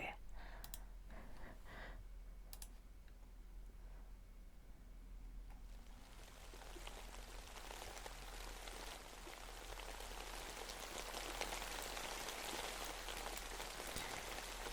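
Steady rain pattering on a surface swells in from quiet, holding a dense, even hiss with scattered drop clicks for the remaining stretch, heard alone without voices.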